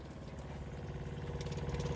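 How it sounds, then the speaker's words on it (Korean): A caravan water pump motor running as it draws water for washing and showers: a close, steady, low pulsing hum with no voices. "워터펌프 스위치를 올린 다음에 아, 요거 물을 작동을 합니다. 하면 여기 모터가 작동을 하죠."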